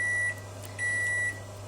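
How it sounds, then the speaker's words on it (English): Microwave oven warming palm oil to loosen it, sounding two loud, clear, steady electronic beeps separated by a short pause over a constant low appliance hum. "the palm oil is in the microwave just to loosen it up a bit so it can come out the bottle"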